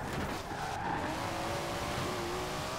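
Fast race car in the Forza Horizon 4 video game skidding with a sustained tire squeal over a steady engine roar, continuous and loud throughout with no talk.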